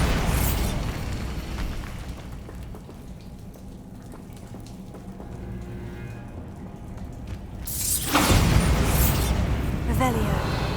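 Bombarda spell explosions in Hogwarts Legacy burst out loudly, a broad crash at the start and another heavier boom near the end with crackling debris, with a quieter, rumbling stretch between them.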